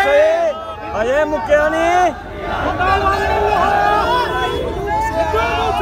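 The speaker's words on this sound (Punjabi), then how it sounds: "ਭੀੜ ਬਹੁਤ ਹੈ" Large crowd gathered at Ravidas chowk in Jalandhar, a gathering for Sidhu Moose Wala's father: several loud, overlapping voices shout and talk near the listener, over a constant murmur of more people.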